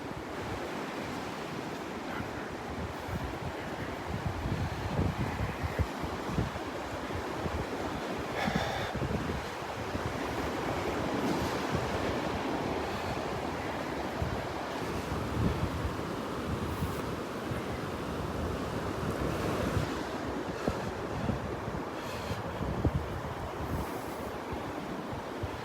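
Rough surf pounds steadily on a Gulf beach at Delnor-Wiggins in Florida while strong wind buffets the microphone with constant roaring gusts.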